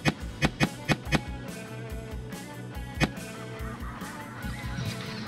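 Snow geese honk in a rapid series of loud, close calls during a waterfowl hunt, then the flock keeps up a steady, dense background chatter with one more sharp honk near the middle.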